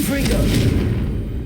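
A Confringo spell fires in Hogwarts Legacy, a loud booming blast with a rumbling low-end tail that fills the moment, with a voice speaking over it.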